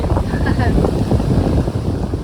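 Loud, constant wind buffeting the microphone at a hammock campsite in Shenandoah on the Appalachian Trail, a low roaring rumble that hardly lets up, with a faint voice under it.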